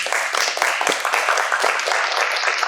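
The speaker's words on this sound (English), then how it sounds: "Let's have a round of applause for our judges." A pitch competition audience applauding the judges, dense clapping sustained throughout at fairly close range, no talking over it.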